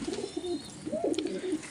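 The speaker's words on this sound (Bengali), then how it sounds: "এগুলো উড়াই পায়রা সব।" Pigeons coo close by in soft, rolling low calls that rise and fall through the whole moment, with a couple of overlapping phrases and no talking.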